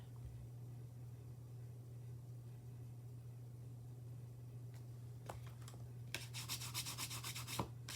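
Paper zinnia seed packet being burnished by hand, quiet at first over a steady low hum, then short scraping rubs followed by a quick run of brisk close rubbing strokes.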